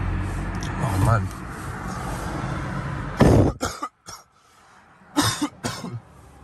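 A man coughs in loud, rough bursts: a cluster of hacking coughs, a short pause, then another pair of harsh coughs, close to the microphone, with faint talk and background noise before them.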